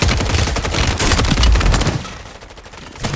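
Rapid bursts of gunfire from a Call of Duty Warzone match, loud and close, dense automatic firing for about two seconds before thinning into scattered shots and a final crack.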